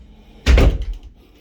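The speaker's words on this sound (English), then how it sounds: "Door shuts correctly." An interior house door swings shut with one solid, close thunk that fades quickly, with quiet room tone before and after.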